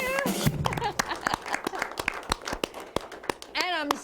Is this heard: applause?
yes